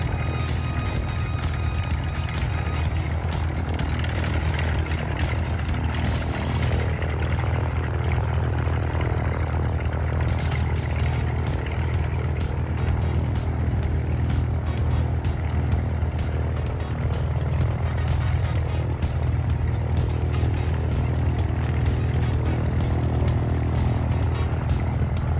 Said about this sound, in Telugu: ఇది టేక్ ఆఫ్ అవ్వడానికి రెడీ అవుతోంది.